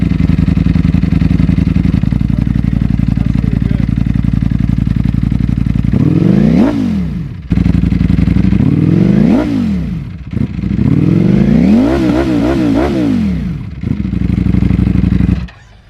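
A Ducati V4 1100cc motorcycle fitted with an Akrapovic full exhaust idles with a deep, loud rumble, then revs hard several times in sharp, snarling bursts with quick rises and drops, close and without talk.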